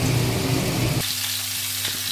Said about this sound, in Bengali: মশলাটা দেখুন ভালো করে কষানো হয়ে গেছে।